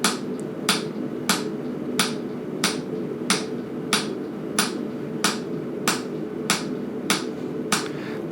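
Steady hammer blows drive a fullering tool across a horse's barshoe, about a dozen sharp metallic taps spaced evenly roughly every two-thirds of a second, close and crisp over a low background hum.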